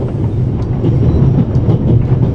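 A train rolls steadily on rails in the video game The Raven Remastered, a loud continuous low rumble with faint rhythmic clicks, with no voices.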